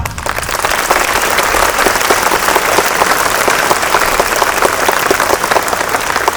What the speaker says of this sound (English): Let us give a good round of clap.